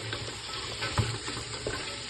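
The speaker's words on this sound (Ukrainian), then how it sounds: "Помішуючи, обсмажуємо цибулю до золотистого кольору." Sliced onion rings and chopped garlic frying in a pan while being stirred, giving a steady close sizzle with soft scraping strokes and a couple of louder clacks, no voices.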